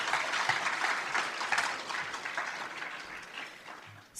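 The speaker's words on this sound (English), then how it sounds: "So could you please give her a round of applause?" A round of applause from the audience at a career and technical education awards ceremony, moderate and fairly steady clapping that gradually thins out over a few seconds.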